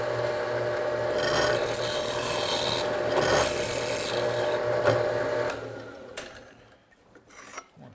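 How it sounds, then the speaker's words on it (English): Deburring tool scraping the edge of a drilled hole in aluminum, a steady rasping grind for about five seconds that fades out, then a few light clicks and handling noises. "Once again, we deburr it."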